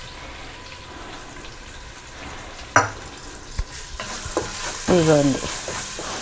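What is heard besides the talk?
ginger garlic paste frying in a pan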